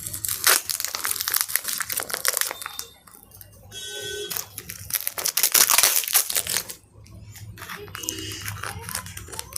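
Scissors snip and crunch through plastic packaging wrapped around a UPSC test series parcel, with repeated close, crinkly cuts and rustling in uneven bursts, broken by short pauses.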